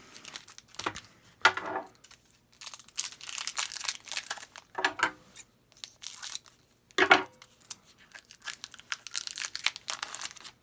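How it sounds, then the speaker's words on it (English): Magic: The Gathering Dominaria booster packs being torn open, with repeated crinkly foil tearing and crumpling bursts close up, separated by short pauses, no talking. "let's start popping into some booster packs"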